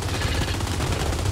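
Enemy automatic gunfire in Gears 5 co-op, a continuous rattling stream of shots, steady and fairly loud over the whole short stretch.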